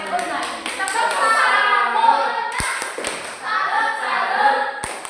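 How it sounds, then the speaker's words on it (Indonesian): A primary school class gives a rhythmic 'tepuk salut' cheer clap for a student, with children's voices chanting along and a few sharp, distinct hand claps punctuating the chant. "Kita berikan tepuk salut untuk adik Ona."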